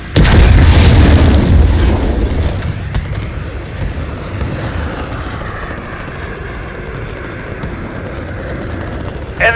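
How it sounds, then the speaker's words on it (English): Cruise missile strikes explode in the video game Call of Duty Modern Warfare during a Ground War match. A loud, deep boom opens the clip and rolls into a long, fading rumble with a jet-like roar. "Allied cruise missile launched"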